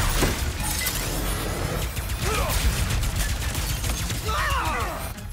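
An enemy shoots at the player in Ratchet & Clank: Rift Apart: dense, loud blasts and shattering impacts pile up over a constant rumble, with a couple of whooshing sweeps and almost no pause.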